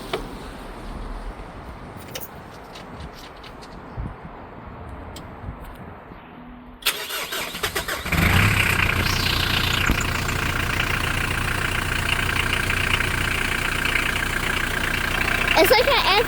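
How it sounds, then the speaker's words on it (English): A Mitsubishi L200 K74 engine with its radiator cap off cranks and catches after a quiet stretch, then settles into a loud, steady idle close by while people talk. "we're going to start up the engine now with the radiator cap off and bleed the system"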